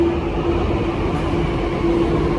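Delhi Metro train braking to a halt at a station platform, a continuous low rumble with a thin tonal whine rising and fading over it.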